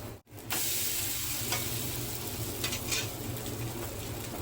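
Oil sizzles and crackles steadily in a hot pan around frying coconut adai batter, a close, even hiss with small popping bursts, briefly interrupted at the start and otherwise continuous without talk.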